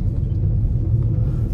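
A 2023 Chevrolet Tracker Premier 1.2 turbo pulls away from a traffic light, heard from inside the cabin as a loud, steady low engine rumble.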